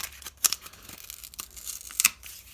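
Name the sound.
tearing corrugated card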